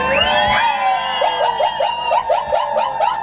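A person imitates a zebra's call with a rising whoop followed by a rapid series of rhythmic, yelping barks, loud and close.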